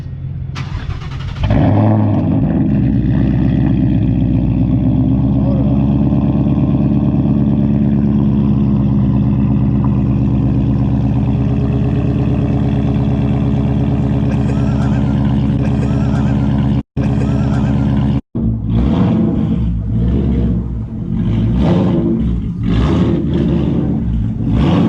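A Ford Mustang 5.0 V8 idles close by in a driveway with a steady low rumble that persists throughout, briefly cutting out twice near the end before resuming with rougher revving pulses.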